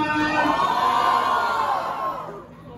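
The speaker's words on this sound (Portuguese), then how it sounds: "Barulho quem gostou das rimas de Japa" A loud crowd at a freestyle rap battle cheering and shouting together, a sustained roar of many voices that holds steady and then fades slightly toward the end.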